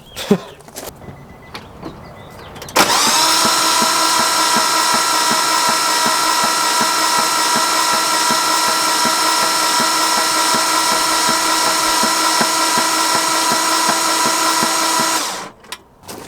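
A neglected Nissan Frontier engine is cranked over by its starter for about twelve seconds, a loud, steady whirring drone with an even rhythm, framed by a few clicks before and after.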